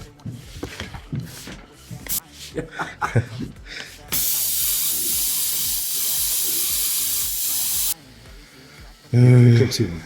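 A spray gun paints a test can in a paint booth, releasing one continuous loud hiss lasting several seconds, cutting off abruptly; people talk before and after the spraying.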